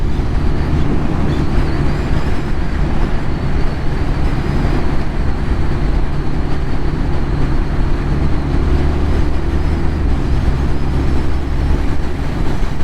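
BMW R12nineT motorcycle riding at speed on a fast, flowing road, a steady, loud engine drone with constant wind rush, unbroken and close throughout.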